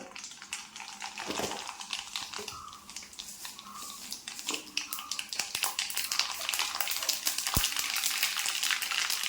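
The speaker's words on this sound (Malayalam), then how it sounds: "നമ്മുടെ എണ്ണ ചൂടായിട്ടുള്ളതിലേക്ക് 1/2 ടീസ്പൂൺ കടുക് ഇട്ട് കൊടുക്കാം" Dense, crackling spluttering of half a teaspoon of mustard seeds popping in hot oil, a busy continuous patter of tiny bursts that thickens over the stretch, with faint voice traces.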